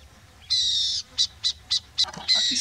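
A burrowing owl calls in sharp, high raspy notes on a trail with red earth: one long screech followed by a quick series of shorter bursts, fairly close and clear.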